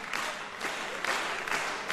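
The wrestling crowd at the FWA Hot Wired 2009 show cheers for El Ligero with loud, sustained clapping and crowd noise that rises in waves.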